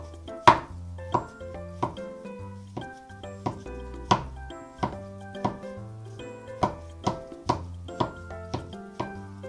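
A knife chops hanpen fish cake on a cutting board for tamagoyaki, giving about a dozen crisp, close taps at a steady, unhurried rhythm with no talking.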